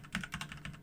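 Rapid clicking of keys on a computer keyboard while entering network router configuration commands, a quick run of close, crisp taps with no voices.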